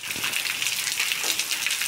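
Rain falling in Picuí, Paraíba, as the weather closes in: a steady, hissing patter of drops on surfaces, moderately loud and continuous, with no voices.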